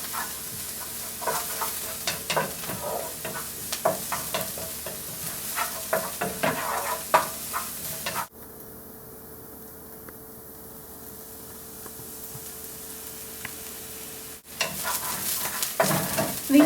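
Aromatics for chicken fried rice sizzle in a pan while being stirred, a close steady crackle with scraping strokes, dropping to a quieter hiss midway before the stirring and sizzle return.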